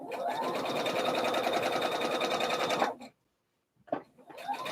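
A sewing machine runs fast along a split seam of a slip dress, a loud continuous close whir that stops abruptly, followed by silence and a few short handling sounds.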